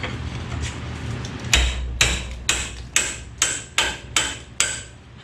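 Seven sharp metallic strikes land at a steady rhythm, loud and close, as a $17 wrench beats on a front wheel bearing of an old-body-style Ford F350.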